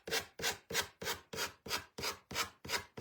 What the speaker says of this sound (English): take our sanding block, which is a gator, sanding gator, and just kind of do this around the edges